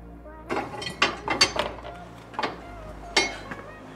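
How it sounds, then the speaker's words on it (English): Spanner working bolts loose on an Audi 2.7 bi-turbo engine mount, several separate metallic clicks and clanks at uneven intervals, close up, with no talk. "you've got to use a spanner to get up in there"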